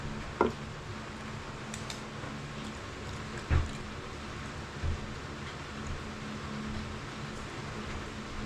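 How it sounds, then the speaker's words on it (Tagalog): Heavy rain falling outside a home with a leaking roof, a dense steady hiss throughout, broken by a few soft knocks and drips, no one speaking. "Naririnig nyo ba mga kabisis yung ulan?"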